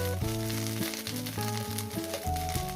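Garlic and black cumin seeds frying in hot oil for a tempering, a steady close sizzle with soft crackles running throughout, partly overlaid by background music.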